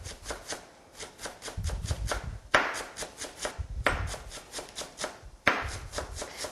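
A knife tip chops the root end of green onions on a cutting board, a steady run of quick, crisp taps with a few louder strokes standing out, close and clear with no talking.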